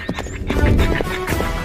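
A horse carrying a groom for a pre-wedding shoot gallops with rapid hoofbeats and neighs loudly up close, under a dense, busy mix.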